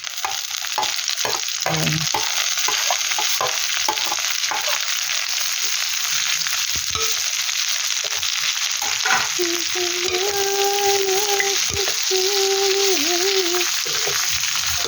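Vegetables and onions frying in a pan, a loud, continuous sizzle with stirring scrapes throughout and a single brief spoken word near the start.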